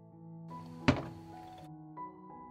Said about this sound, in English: I put the pan down on the stove.